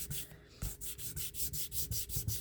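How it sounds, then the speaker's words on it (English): Rhythmic back-and-forth sanding strokes rasp across the bottom of a demolded Hydrocast piece, close and clear, about eight even rubbing passes with no talk. "I sand it down a little bit more."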